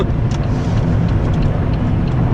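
A supercharged Pontiac V6 roars at wide open throttle, a loud, close, continuous engine note with a steady rumble and no break or sputter.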